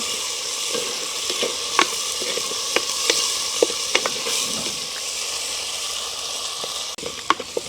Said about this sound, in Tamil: வெங்காயம் பச்சை மிளகாய் வதங்கட்டுக்கு.